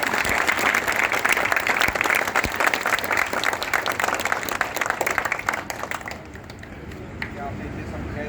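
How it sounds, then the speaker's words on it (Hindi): Crowd applause for Alok Dixit at an outdoor street play about stopping violence against women, vigorous sustained clapping from a gathered audience that gradually fades and gives way to a voice. "एक बार आलोक जी के लिए बहुत जोरदार तालियां।"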